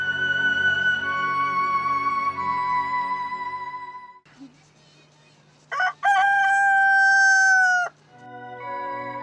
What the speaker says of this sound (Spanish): El canto del gallo indica que amaneció